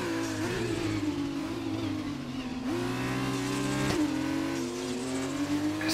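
Formula 2 race cars in a racing video game, set at the Brazil round, roaring with a steady high engine whine that climbs and drops through gear shifts, loud and continuous with no talk.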